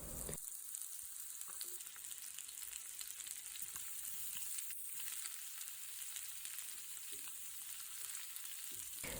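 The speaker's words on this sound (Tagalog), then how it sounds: "Gisa-gisa lang tayo." Mushroom and squash sautéing in a pan, a faint, steady hiss of frying with light crackles and occasional stirring sounds.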